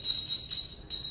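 A notification bell sound effect rings four times, each a bright high chime that starts sharply and fades quickly, alone and with no voices.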